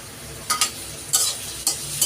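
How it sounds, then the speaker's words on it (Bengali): Chopped onion and coriander leaves frying over lowered heat in a pan, a soft continuous sizzle punctuated by several sharp stirring scrapes and clanks, close up with no speech. "তো পেঁয়াজ কুচি আর ধনিয়া পাতাটা এখন ভেজে নিচ্ছি।"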